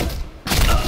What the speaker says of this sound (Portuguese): Olha o jeito que o cara atira, pô.